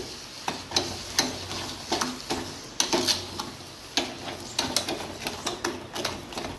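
Satyanarayana sajjige, a semolina dish with sugar, being stirred in a pan: quick irregular scraping clicks of the spoon against the pan over a faint sizzle, no talking.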